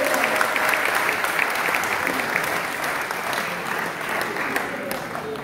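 A church congregation claps in sustained, dense applause that fills the room evenly, loud and steady throughout with no pauses.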